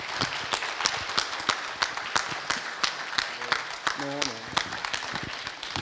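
Scattered applause from a convention audience after a talk, with individual claps clearly distinct, and a voice briefly speaking over the clapping.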